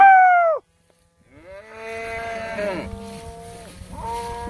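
Cattle being moved up a full lane into the sun bellow and moo, with one loud close call followed by several overlapping moos from the herd.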